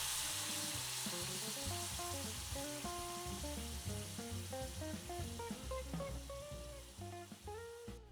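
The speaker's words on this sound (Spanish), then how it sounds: "Enseguida vamos a freír la fruta." Fruit frying in hot oil with half a crumbled cinnamon stick for homemade red mole, a dense, close, steady sizzle and crackle throughout, with no talking.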